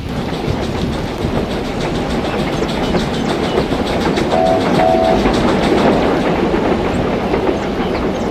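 A train rolls past on the rails in a rainy, stormy spell, its steady clickety-clack of wheels over track joints continuing loud and close throughout, with no talking.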